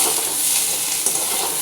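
Short burst of pointed gourd (potol) sizzling in hot oil in a pan, continuous close frying hiss with a faint utensil clink, nobody speaking.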